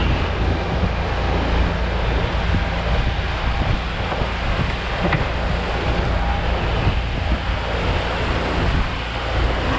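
A motorboat's wake rushes and slaps against the surface in open water, a steady, close washing roar with wind buffeting the microphone, no talk.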